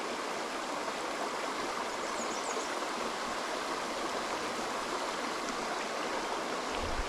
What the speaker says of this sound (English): Right down through the rapids.